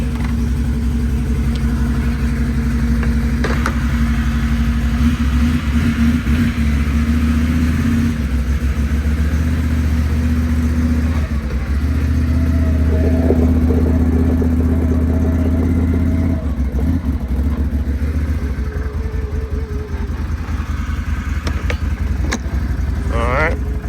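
A Mitsubishi Outlander engine idles steadily just after starting, a loud continuous low rumble running throughout, with occasional clanks and handling noises nearby.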